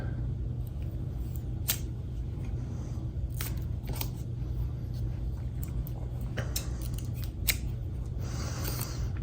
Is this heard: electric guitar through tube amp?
no